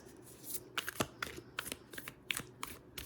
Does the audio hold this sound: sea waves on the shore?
no